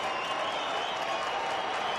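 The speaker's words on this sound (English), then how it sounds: "The two-strike clap happening here at Coors Field." A baseball crowd at Coors Field keeps up a sustained two-strike clap, a dense, even wash of many hands clapping across a large stadium.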